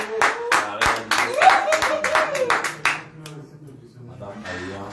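Rhythmic hand clapping from a small group at a marriage proposal beats out a steady pulse for a few seconds while a voice sounds over it.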